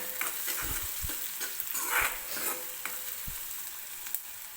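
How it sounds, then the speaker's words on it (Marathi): Chopped onion with curry leaves frying in oil for a peanut amti, a steady soft sizzle with occasional stirring scrapes and light clinks, close and fairly quiet, no voices. "कांदा हलकासा गोल्डन होईपर्यंत आपल्याला भाजायचा आहे बरं का"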